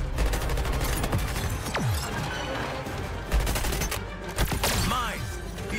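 Gunfire aimed at snipers in the video game Suicide Squad: Kill the Justice League, a dense, continuous barrage of rapid shots and bursts with booming impacts, loud and close, mixed with whooshing effects.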